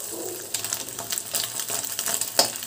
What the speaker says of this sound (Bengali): এবং নাড়াচাড়া করে ডিমটা ভেজে নেব।